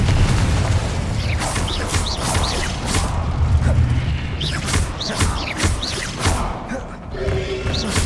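In Hogwarts Legacy, the Confringo explosive spell is cast repeatedly, giving loud, close booms and whooshing bursts in quick succession over a dense rumble of game effects.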